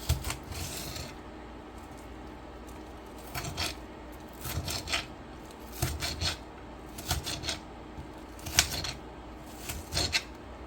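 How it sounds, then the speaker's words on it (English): Knife chopping onions into small pieces on a board for a beef stir fry, clusters of quick crunchy cuts separated by short pauses, close and without talk. "dice these onions into smaller pieces."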